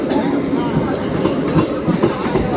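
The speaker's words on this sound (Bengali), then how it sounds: "দেখো ট্রেনটা ছেড়ে চলে যাচ্ছে কাটার দিকে, দেখো ট্রেনটা ছেড়ে দিচ্ছে" A train pulling out of Bangaon station, a close, steady clattering rumble of wheels and carriages with some voices mixed in.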